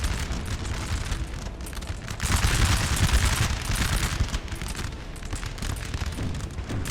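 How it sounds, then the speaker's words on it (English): Batteries of 4-pounder cannons fire in a Napoleon Total War battle, a dense rumbling barrage of overlapping booms that swells louder in the middle and never pauses. "You got 3 4-pounder cannons here. Hitting Sachsen pretty hard."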